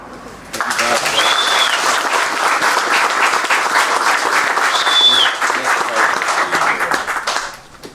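Warm, sustained applause from a gala audience at an amateur radio club's 75th anniversary gathering, swelling after a quiet start and tapering at the end, with faint voices and a couple of brief whistles over the clapping.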